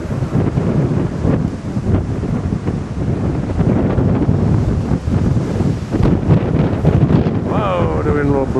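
Strong blizzard wind roars steadily outdoors, buffeting the microphone loudly throughout, and a voice cuts in briefly near the end.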